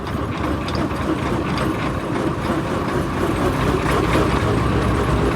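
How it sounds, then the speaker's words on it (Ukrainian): A tractor's power take-off drives farm machinery for chopping corn silage as it spins up to speed, a loud, steady mechanical whir with a gear-like rattle that continues unbroken throughout. "Вмикнули, почекали, поки воно набере обороти"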